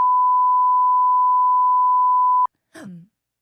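A steady censor bleep tone holds loud and unbroken for about two and a half seconds, cuts off sharply, and a brief burst of voiced sound follows just after.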